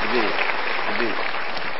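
A burst of applause from an audience, loud and continuous, with a few voices mixed in.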